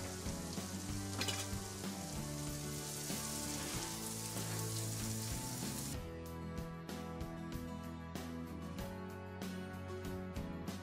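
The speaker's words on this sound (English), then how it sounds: "We're going to go ahead and add in our onion." Chopped onion sizzles steadily in a hot oiled pan for a stuffed mushroom dish, a loud continuous frying hiss with crackling pops throughout and no voices.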